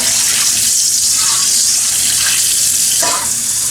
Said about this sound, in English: Now we're gonna rinse off that vinegar for our chicken.